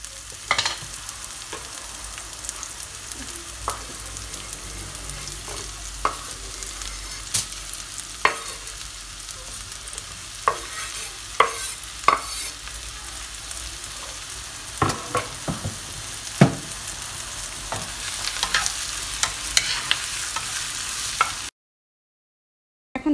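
Onion and garlic fry gently in olive oil, a steady low sizzle with scattered pops and stirring clicks, close up and fairly quiet, then a short stretch of silence near the end.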